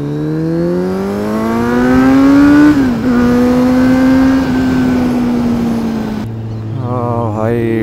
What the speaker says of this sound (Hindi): मज़ा आ रहा भाई बाइक चला कर।